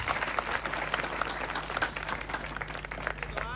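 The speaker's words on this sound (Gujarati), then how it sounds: "જોરદાર તાળીઓથી સ્વાગત કરો" Crowd applause welcoming a guest at a devotional bhajan gathering, dense continuous clapping from many hands, fairly close and steady.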